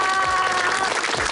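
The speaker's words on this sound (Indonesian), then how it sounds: "Tepuk tangan dulu." A short burst of applause from a television studio audience of schoolchildren, parents and teachers from SDN Kebon Kacang 01, loud and close, with a faint tonal hum running underneath.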